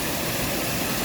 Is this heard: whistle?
no